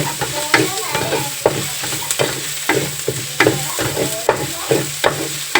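Chicken curry with three slit chillies being stirred in a pan, rhythmic scraping strokes about twice a second over a steady sizzle, close and fairly loud, with no talking.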